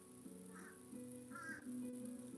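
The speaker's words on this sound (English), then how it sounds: "I know you hear the fucking crow outside my window" A crow caws outside a window, two or three faint, short calls at a distance against a quiet room hum.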